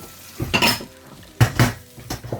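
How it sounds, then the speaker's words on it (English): Fried rice being stirred and tossed in a pan with a metal utensil, giving close, loud clanks and scrapes in three or four separate bursts over a faint background sizzle, with no one talking. "So frying the rice now."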